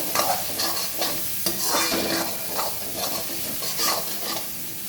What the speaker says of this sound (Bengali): গরম মশলার গুঁড়ো একটু দিয়ে দিলাম, ভালো করে কষে নেব।